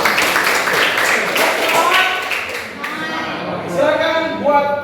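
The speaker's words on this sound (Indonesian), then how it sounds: "Oke, tepuk tangan dulu semua." Classroom full of students clapping hands together in a dense, steady burst of applause, followed by children's voices calling out and cheering as the clapping thins.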